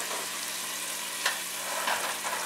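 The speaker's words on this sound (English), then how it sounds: "So that's why I'm mashing these tomatoes." Tomatoes being mashed in a hot pan for pav bhaji curry, with a steady sizzle throughout and a few soft thuds and scrapes of the masher against the pan.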